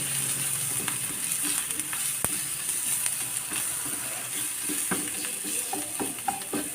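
Chili powder and tomato for paneer butter masala sizzle steadily in a pan, with a soft continuous frying hiss broken by occasional spoon stirs and clicks, fairly close and alone.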